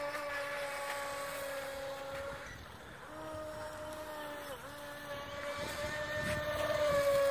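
A small Feilun FT012 RC racing boat's high-pitched motor whines steadily, its pitch dipping and rising as it speeds across water, with some wind noise.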